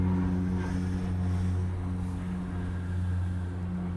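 A C-37 jet takes off at Honolulu airport, heard as a steady, distant engine roar with a low droning hum throughout and no talk.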